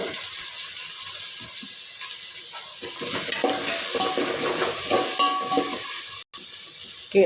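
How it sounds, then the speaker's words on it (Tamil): Tomatoes fry in a pan for chicken biryani while a spoon stirs them, giving a loud, close hiss and sizzle with scraping strokes that swell midway and end with a brief cut. "ஒரு ரெண்டு தக்காளி பெரிய தக்காளியாக எடுத்து அறுத்து வச்சுருக்கோம் அதையும் சேர்த்துக்கலாம் சேர்த்து நல்லா கிண்டி விட்டுக்கோங்க"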